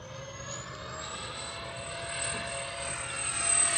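An FMS A-10 Thunderbolt II V2 RC jet on twin 70mm fans makes a full-throttle high-speed pass: a steady whooshing roar with a thin whine that climbs in pitch and grows louder toward the end.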